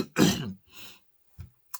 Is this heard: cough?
yes